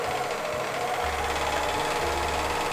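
A sewing machine stitches two milkmaid dresses side by side, a steady mechanical hum coming in sustained runs with short pauses, close and fairly loud, with no talk over it.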